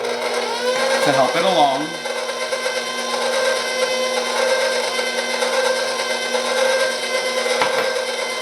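Electric mixer whirring steadily on low speed through cake batter for an orange olive oil cake, a continuous mechanical hum lasting throughout, with a person talking briefly over it near the start.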